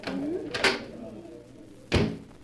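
A door opens onto a terrace with a couple of sharp clunks of the latch and frame, quiet and close, while people speak nearby.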